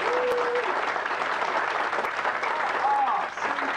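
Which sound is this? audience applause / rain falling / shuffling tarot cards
audience applause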